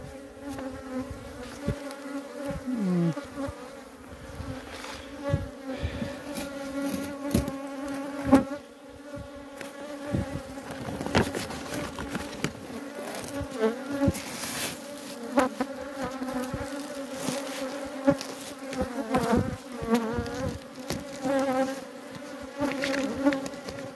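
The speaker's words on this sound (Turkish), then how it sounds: "Görün orada arı dışarıda güneşleniyor." Bees buzz around a beehive in September, a steady, dense insect hum with individual bees droning close past the hive in the open air.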